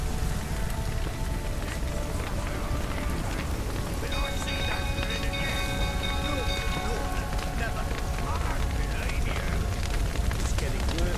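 Steady rain hisses throughout in The Witcher 3: Wild Hunt, with low thunder rumbling underneath and tonal game sounds drifting in the middle, all at a constant loud level.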